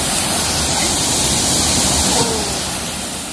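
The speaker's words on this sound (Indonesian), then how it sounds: "Tuh ada air terjunnya guys." Waterfall roaring steadily at a cave fishing spot, a dense, loud, continuous rush of falling water with no pauses.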